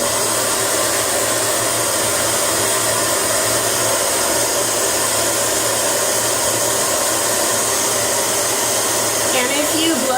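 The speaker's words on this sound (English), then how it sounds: "if you blow dry right after you put your mascara on, it'll push them up" A hair dryer blowing to dry freshly applied mascara, a loud, continuous, even whoosh held close to the microphone for the whole stretch.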